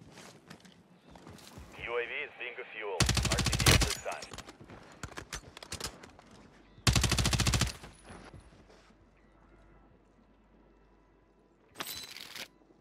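Warzone 3 gunfire on Rebirth Island: three loud, dense bursts of automatic fire with quieter shuffling and movement between them, over a player's occasional talk.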